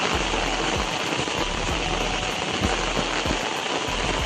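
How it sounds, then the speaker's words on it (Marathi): Heavy rain pours down steadily on a Konkan village, a dense continuous hiss with occasional heavier drips and splashes standing out, close and loud throughout. "जोरात पाऊस आलाय"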